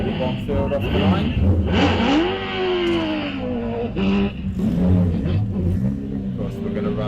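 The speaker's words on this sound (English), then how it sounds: "Sounds like Tony Bonfield off the line." Race car in the British Sprint Championship at Llandow pulling away from the start line, engine note climbing hard and loud under a commentator's voice talking over the PA.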